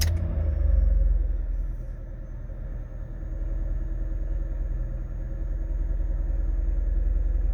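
A 2007 Lincoln MKX engine idles steadily after a cold start on a 54-degree day, a continuous low rumble that stays close and even, with no talking.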